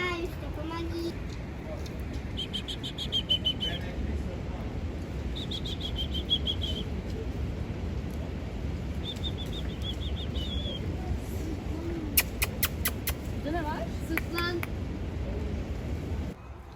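Birds flapping their wings and chirping outdoors at a Turkish holiday spot, with soft flutters and short bright calls scattered over a steady ambient bed, while a child and an adult talk nearby.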